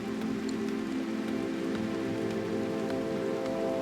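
Steady rain falls in the video game RimWorld, a continuous even hiss of drops on surfaces with faint tonal game ambience underneath, no voices.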